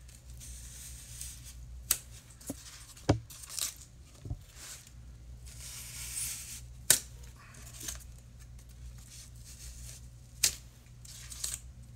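Faux rock wall aquarium background material is cut with scattered, quiet snips and sharp clicks at irregular intervals over a low background hum.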